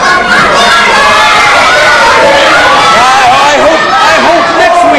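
Loud, dense crowd noise at an ECPW championship wrestling event, with shouting, cheering and babble of many voices filling the hall steadily throughout.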